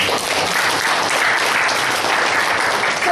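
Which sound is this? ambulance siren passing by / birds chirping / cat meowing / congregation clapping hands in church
congregation clapping hands in church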